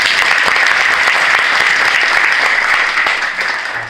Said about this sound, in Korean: 이 모든 그 기쁨을 우리 하나님께 영광의 박수를 올리겠습니다